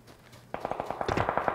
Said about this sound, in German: Schüsse sind so geil laut in dem Spiel.